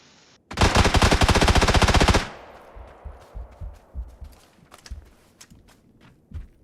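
A loud, sustained automatic-weapon burst in the shooter game PUBG rattles for about two seconds, followed by quieter scattered thumps and footsteps.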